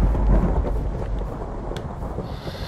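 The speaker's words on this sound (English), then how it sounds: "Thunder?" Minecraft thunder, a loud deep rumble that swells at the start and slowly rolls off, with a faint hiss of rain behind it and no talking.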